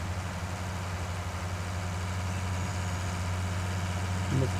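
Tractor engine idling in Farming Simulator 19, a white tractor hitched to a cultivator, holding a steady low drone throughout at moderate level with no talk.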